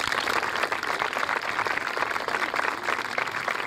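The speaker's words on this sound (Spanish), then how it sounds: "para el cual le brindaremos un fuerte aplauso." Audience applause at a ceremony honouring a war veteran, a dense steady clapping that fills the whole stretch without pause.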